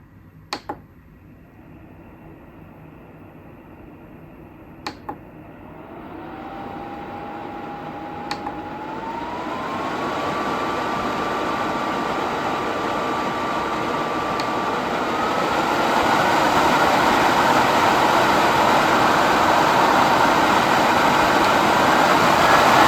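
A KLIM TurboFrost Max laptop cooler fan whirs steadily, its pitch and loudness climbing in stages from a low hum to a loud, rushing roar, with a few faint clicks early on and no voices.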